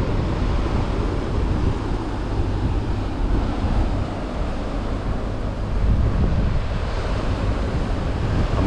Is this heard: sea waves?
yes